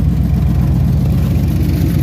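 A GMC OBS pickup truck engine runs with an exhaust leak, giving a steady close rumble with a rough pulsing tick layered over it and no voices.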